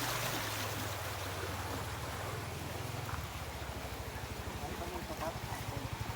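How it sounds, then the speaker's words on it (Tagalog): Water flows through a canal on a very dark night, a steady broadband rushing with a low rumble underneath, continuous and fairly close throughout. "Ito pala yung umaagos sa tubig dito."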